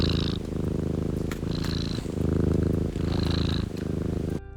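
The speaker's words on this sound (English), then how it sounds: "My cat decided to join me during this voiceover." A cat purring close by in a steady rumbling rhythm, each inhale and exhale audible as a slow cycle, alone with no talk.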